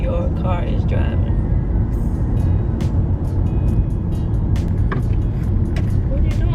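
A car is driven straight ahead by a learner driver, its engine and road noise a constant loud rumble inside the cabin, with speech heard over it.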